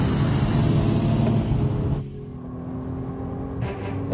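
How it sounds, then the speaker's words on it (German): A BMW 1 Series accelerates hard out of a curve on a test track, its engine loud and rising, then dropping off sharply before building again; no talk over it. "Das Fahrzeug ist wie aus Schienen aus der Kurve rausbeschleunigt."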